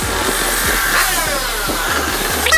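Two-stroke Honda NSR motorcycle engine idling nearby in a workshop, a steady buzzing drone with rapid popping pulses repeating throughout, loud and alone with no talk.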